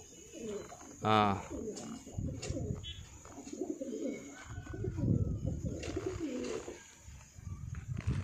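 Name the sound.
pigeon cooing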